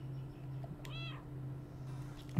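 A cat meows once in the video game Stray, a short, clear mid-pitched call rising and falling over a quiet low game hum, with no talk.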